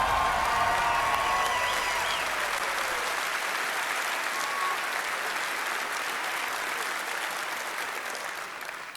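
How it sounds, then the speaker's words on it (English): Audience applause fills a large live conference hall at a game showcase, dense sustained clapping mixed with some crowd cheering that stays loud throughout and tapers only slightly near the end. "can I please get another round of applause for that man?"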